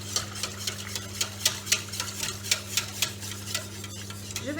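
A spoon stirs waterzooi sauce in a pot, giving a steady run of soft, regular scraping strokes at close range over a constant low hum, with no voices.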